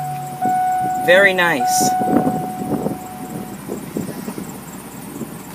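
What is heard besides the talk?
2007 Chevrolet Express Dutchmen motorhome engine starting and running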